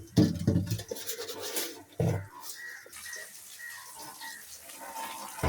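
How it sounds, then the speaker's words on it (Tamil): Karungkanni paarai fish dropped into hot tempering oil for a village-style fish curry gives two loud, close bursts of sizzle, then a quieter, crackling fry that continues. "இதோட நாங்கள் இப்போ தாளிப்புக்குள்ளே மீனை சேர்த்துக்கொள்ளுவோம்"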